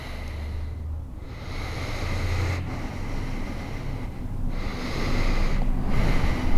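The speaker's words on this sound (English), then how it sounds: "We'll breathe in there." A slow, deep inhale during a yoga flow, heard as a long airy breath close to the mic over a steady background wash, with a few breath swells across the stretch.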